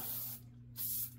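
Hornady One Shot gun cleaner and lube sprayed from an aerosol can while cleaning an AR-15 rifle: two close, loud hissing bursts, each roughly a third of a second, separated by a brief pause, with no talking.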